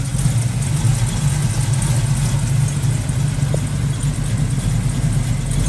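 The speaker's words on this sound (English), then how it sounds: "I'm going to adjust the idle a little bit." The 1968 Chevrolet Camaro engine idles loud and close, a steady low rumble with an even, unbroken tone throughout and no voices over it.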